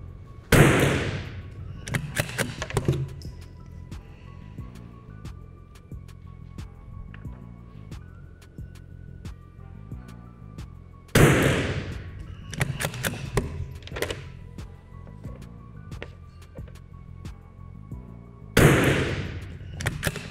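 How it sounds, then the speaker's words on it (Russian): Three loud, sharp shots from a scoped rifle being sighted in, spaced several seconds apart, each followed by a brief echoing tail and some clatter, with a quiet background between. "Ну, 3 выстрелов достаточно."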